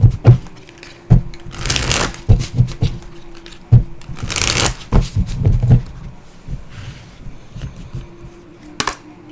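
A deck of oracle cards is shuffled by hand in several bursts of riffling and flicking, with sharp taps and short pauses between rounds, heard close and fairly loud with no one talking.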